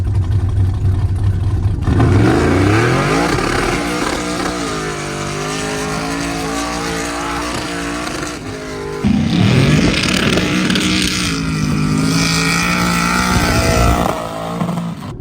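A nitrous-fed LS-powered Cadillac launching hard, its V8 roaring loud and close with rising revs, a brief drop near the middle and then a second surge of full-throttle howl.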